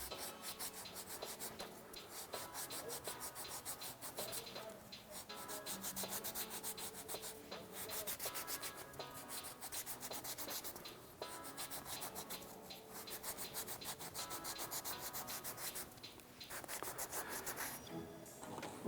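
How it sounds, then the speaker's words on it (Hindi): A slightly damp cotton cloth is rubbed over a paper mache surface, making continuous close scratchy swishing strokes in a steady back-and-forth rhythm with no talk. "एक कपड़ा है, कॉटन का कपड़ा, उसको थोड़ा गीला करेंगे, ज़्यादा नहीं थोड़ा, और उसको ऐसे रब करेंगे"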